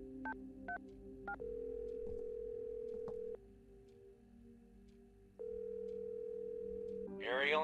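In the video game The Works of Mercy, a telephone gives three quick touch-tone dialing beeps, then long steady ringing tones with a short gap between them, followed by a brief voice-like sound at the end.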